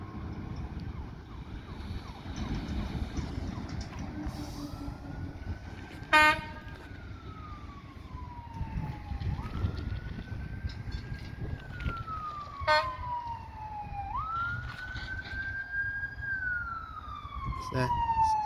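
A Pafford ambulance siren wails while responding, rising and falling in long sweeping tones at moderate distance, with a few sharp horn blasts, over low background rumble from a passing BNSF coal train; a voice speaks briefly.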